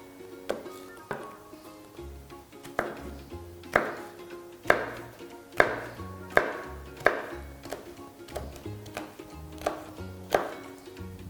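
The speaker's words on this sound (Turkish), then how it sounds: "çok iri olmayacak şekilde doğruyoruz" A knife chops a bell pepper on a cutting board in steady, rhythmic strokes, close and crisp, with no talking.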